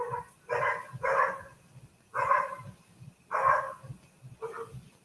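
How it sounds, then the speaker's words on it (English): Dog barking at night in repeated bursts of two or three barks, with pauses between, moderately close over a low rumbling background. "every single goddamn night that damn dog is barking?"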